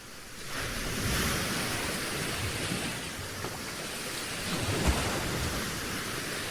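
Ocean waves wash onto a beach in a continuous broad surge, rising and falling gently, loud and enveloping.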